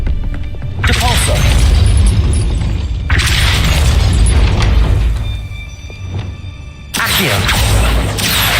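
Depulso spell cast in the Hogwarts Legacy video game, a loud sudden whooshing blast with crashing, thudding impacts in bursts, followed by another heavy burst near the end, with game dialogue around it.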